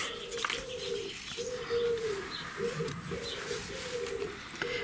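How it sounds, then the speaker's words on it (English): Pigeons or doves coo in repeated low, soft phrases with brief pauses, steady throughout, with faint chirps and outdoor background noise. "the birds are going again"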